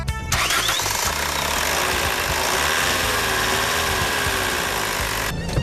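Ford Fiesta TDdi Mk IV diesel engine turning over and catching, then running with a steady, loud, gritty diesel clatter close by, no voices.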